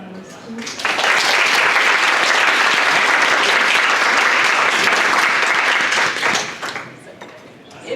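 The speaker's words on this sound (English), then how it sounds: "We have another round of applause for our panelists." A conference audience at an entrepreneurship panel gives its panelists a loud round of applause. The full, steady clapping swells after a quiet first second, holds for about five seconds, then tapers off, with some talk near the edges.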